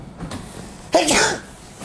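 A single sharp, breathy burst like a sneeze, loud and close, about a second into an otherwise quiet stretch.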